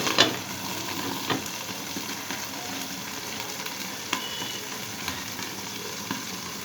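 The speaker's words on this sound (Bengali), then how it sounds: "এইভাবে ধীরে ধীরে এটা তাপে তাপে ভাজাও হবে আর মাছটাও সিদ্ধ হয়ে যাবে" Hilsa paturi wrapped in gourd leaves fries in oil inside a covered pan, giving a soft, steady sizzle with occasional faint pops and crackles throughout, no voices.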